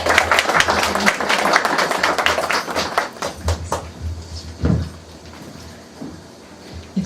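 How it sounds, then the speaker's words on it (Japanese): Applause fills a hall at a Netaji Subhash Chandra Bose birth anniversary event as two guests are introduced, loud dense clapping thinning into scattered claps that fade to a quieter room. "拍手をお願いします。"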